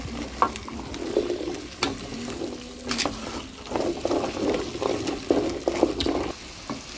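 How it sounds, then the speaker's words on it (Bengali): Orboroi fried in oil being mixed and stirred with spices in a pan, scraping strokes of a spoon over steady sizzling, irregular stirring with louder scrapes at intervals, close and alone. "অরবরইগুলি দিয়ে দিয়েছি। এখন ভালোভাবে মশলার সাথে মিক্স করে নিব।"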